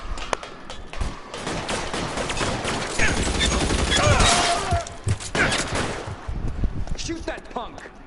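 Gunfire in the L.A. Noire video game: dense bursts of shots and crashing impacts pile up in a busy, loud mix, with voices talking over the action.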